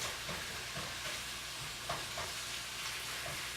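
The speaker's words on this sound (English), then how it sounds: "So the spinach is sweating here." Steady soft sizzling of spinach sweating in a pan over medium heat, a continuous hiss with faint occasional crackles and stirring.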